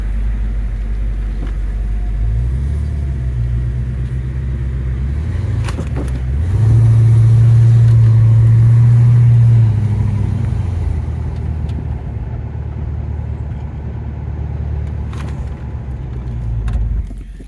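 A 1993 Ford Mustang convertible cruises down a road, its engine a steady low rumble under road noise that swells into a louder, stronger pull midway before easing back to a smooth, even drone.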